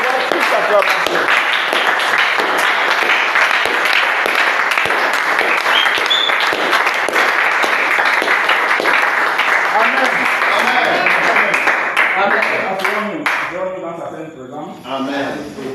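A church congregation breaks into sustained, loud applause and clapping during worship, dense and continuous for many seconds with voices mixed in, before thinning out and fading toward the end.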